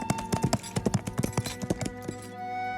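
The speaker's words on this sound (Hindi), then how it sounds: "इतना बोलकर केशव घोड़ा लेकर सीधे जंगल की ओर रवाना हो गया" Horse hooves clip-clopping as the animal is ridden off toward a forest, a brisk, even run of sharp hoof strikes, close and clear, slowing and thinning out near the end, with no voices.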